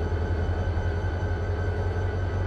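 Train running in the Run8 V2 simulator on the Sanford Subdivision, a steady low rumble with a faint constant whine above it, unbroken and fairly close throughout, with no talk.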